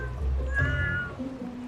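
A cat in a Taiwanese cat village gives a plaintive meow, then a softer trailing call, close by and alone over quiet outdoor ambience.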